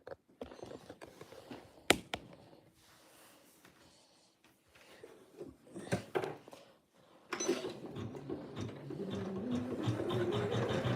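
Home sewing machine stitching pieced quilt blocks, with a stretch of quieter handling and clicks before the motor runs steadily and loudly in the last few seconds, close by and without talk.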